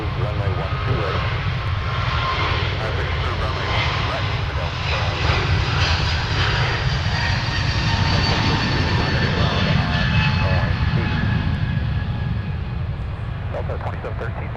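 A Delta Airlines jet, flight 2773 to San Antonio, takes off from runway 12 right at Minneapolis–St. Paul airport, its engines a loud, continuous roar sustained throughout at fairly close range.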